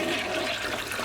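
A household toilet flushes in a steady rushing gush of water, close and loud, filling the whole moment with no voices.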